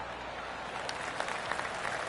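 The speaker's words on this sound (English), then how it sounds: "golf clap" Soft, sparse clapping from a small crowd in the video game PGA Tour 2K23, a light golf clap that builds slightly toward the end over low background hiss.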